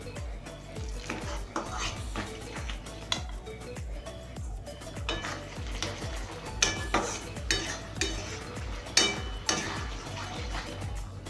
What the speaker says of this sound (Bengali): মশলাতে আমি একটু গরম জল দিয়ে আর একটু কষিয়ে নেব